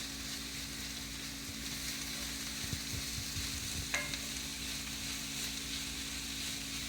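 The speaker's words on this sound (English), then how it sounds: "Cooking that rosemary in with your veggies" Vegetables and rosemary frying in a pan give a steady close sizzle, with a few stirring scrapes and one light clink midway, and no voices.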